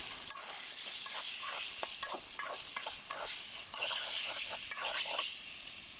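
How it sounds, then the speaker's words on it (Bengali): Chicken pieces fry in ginger-garlic masala while being stirred. Quick repeated scraping strokes sit over a light, steady sizzle, close but fairly quiet. "মশলাগুলো কষানো শেষ, এখন আমি এখানে গোস্তগুলো দিয়ে দিলাম"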